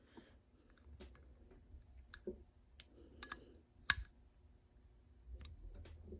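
Small metal clicks and ticks, sparse and quiet, come from a pulley being bolted onto a Suntour Superbe bicycle derailleur during a rebuild, with one sharper click near the middle and a faint low rumble underneath.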